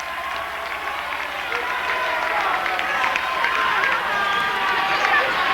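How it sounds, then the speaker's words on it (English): A high school boys basketball crowd in a gym roars with a dense, sustained wash of cheering and clapping, loud and continuous, with a commentator talking over it. "the Trojan crowd with that familiar chant of air ball"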